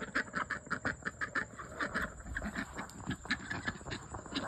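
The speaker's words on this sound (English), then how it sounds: "Quit quacking." Several female ducks quack in quick, repeated bursts close by, the calls overlapping in a busy, uneven rhythm that carries through the whole stretch.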